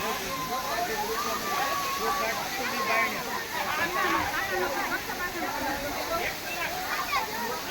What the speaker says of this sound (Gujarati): જો મિત્રો ઉપરથી ધોધ પડી રહ્યો છે અને નીચે લોકો એની મોજ માણી રહ્યા છે